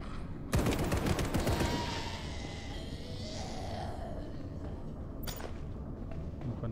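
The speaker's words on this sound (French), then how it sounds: "Une grenade." In the PC game Section 13, a grenade goes off with a sharp burst of rapid gunfire, then a low rumbling aftermath follows and a single crack comes later, with no talking.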